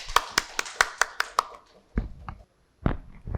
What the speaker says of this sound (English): please welcome, with a huge round of applause, Professor Satyajit Majumdar.